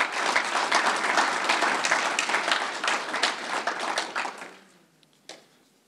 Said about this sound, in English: If we could just give a round of applause for all those.